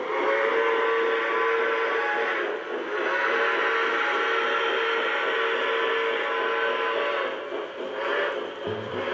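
Toy train whistle blowing a loud sustained tone, held almost continuously for about nine seconds with slight dips, close and clear with no talking.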